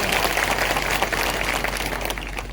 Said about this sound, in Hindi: तालियां बजाओ मीरा जी के लिए